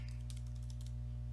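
Keystrokes on a computer keyboard tapped out in a quick, light run of clicks over a steady low electrical hum, fairly faint and with no talking.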